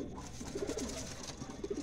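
Soft, low pigeon coos repeat a few times at close range against a steady background hiss.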